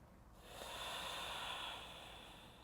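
A single slow, audible exhale during a yoga session rises over about a second and then fades, soft and close, with no talking.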